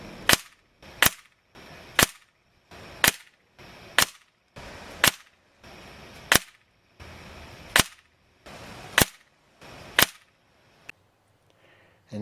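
A Daisy air rifle fires pellets at a target in about eleven sharp, loud cracks, spaced roughly a second apart with short pauses, each followed by quiet handling noise between shots.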